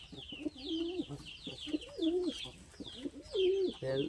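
Soft, repeated cooing from a sick pigeon close by, three throaty rolling calls in a slow rhythm with faint chirps above.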